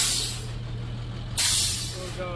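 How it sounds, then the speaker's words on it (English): A 2011 International DuraStar 4400 truck lets out two sharp bursts of hissing air over a low, steady engine idle as its power take-off engages. "Engage the PTO."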